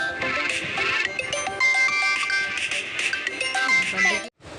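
An incoming phone call rings as a loud, continuous melodic ringtone with steady repeating tones, then cuts off abruptly near the end.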